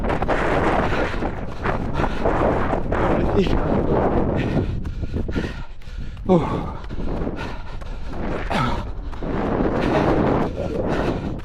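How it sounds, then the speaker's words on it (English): Wind buffeting a microphone beside a boating lake during a 5k run, a loud, continuous low rumble that fills the whole stretch with brief dips. "The last part of the wind is over and we're doing this straight with no wind, although you can still hear it in the audio"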